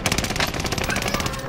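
Rapid automatic gunfire from Call of Duty: Modern Warfare, a dense stream of close, loud shots with no breaks for about a second and a half.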